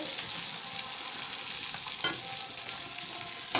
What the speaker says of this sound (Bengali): বেগুনগুলোও অলমোস্ট একটা পিঠ হয়ে এসেছে সাথে বরবটিগুলোকেও দিয়ে দিয়েছি এর মধ্যে ভাজা হচ্ছে